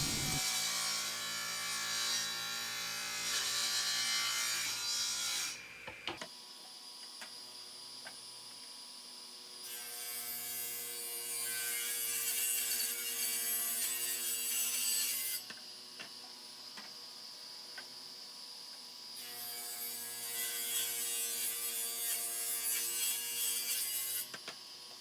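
Table saw ripping a wooden board while building a foot rest: the motor runs steadily, with loud bursts of cutting noise in three passes as the blade bites the wood, separated by quieter stretches of idling.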